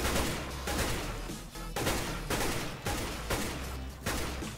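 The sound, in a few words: gunshots in the video game CS:GO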